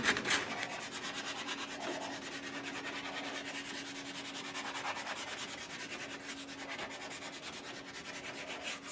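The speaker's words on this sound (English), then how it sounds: "We're going to use this again with the 80 grit to shape this little bevel up and to clean this headstock up a little bit." A short-scale bass guitar headstock being sanded with 80-grit paper to shape a small bevel. A steady, continuous dry rasping rub runs throughout, close and even, with no talking.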